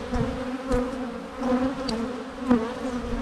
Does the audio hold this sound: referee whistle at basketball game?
no